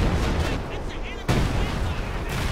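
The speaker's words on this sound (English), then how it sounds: "my artillery is now firing upon this area" Heavy artillery fire in the World War II strategy game Company of Heroes 2, a loud thudding barrage with a sharp new blast about halfway through and a rumbling tail, over a dense battle din.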